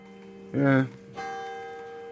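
A bell rings out with a sustained metallic tone, then strikes again and rings on; a voice is briefly heard between the strikes.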